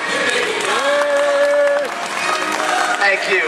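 Broad, dense applause from a large crowd at Disney's Hollywood Studios' Great Movie Ride fills the whole stretch, with a sustained tone and some voices rising over the clapping.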